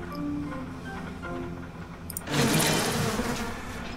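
Swarming bees from the Hive Hand power in BioShock buzz over a humming tonal drone, then swell into a louder, dense burst of insect buzzing for the final seconds, with no voices.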